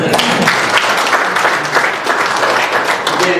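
Audience applause fills a hall during a college athletic hall of fame induction ceremony, a dense, steady wash of clapping that holds loud and even throughout.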